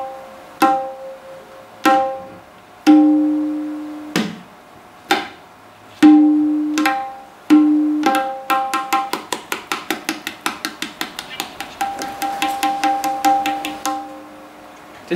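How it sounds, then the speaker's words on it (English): Tabla drumming: a sequence of struck strokes, with some sparse, ringing, pitched hits first, then a fast, even roll of crisp taps. The drum is close and clear, with no talking. "Tabla is a complete beat instrument with different sounds and with different techniques."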